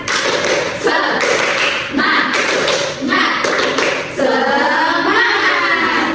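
Classroom children doing a rhythmic clapping chant, the tepuk semangat spirit clap, led by a teacher: bursts of sharp, close hand claps in quick patterned groups, with young voices chanting along throughout.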